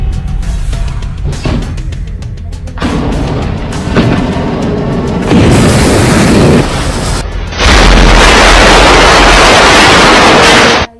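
Missile explosions rumble in loud, sustained bursts, with deep booms layered into a roaring wash of noise that swells and holds at full force for several seconds before cutting off abruptly.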